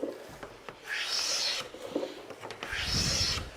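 A hand plane or similar edge tool takes a couple of shavings from wood while fitting a tapered sliding dovetail, two close rasping strokes about a second and a half each, with brief pauses and soft handling knocks between.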